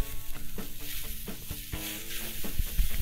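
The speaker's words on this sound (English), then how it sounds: "frying the meat in that seasoned oil" Steady sizzling of meat frying in hot seasoned oil for seafood pasta, with occasional stirring and clattering of a utensil in the pan.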